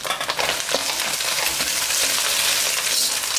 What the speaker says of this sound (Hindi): गाजर को थोड़ा सा हम इसमें पका लेंगे